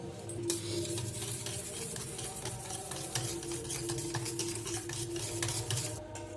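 Powdered sugar being mixed into a date cake batter in a bowl, a steady close scraping and swishing stir that runs continuously with faint clinks of the utensil, no voices.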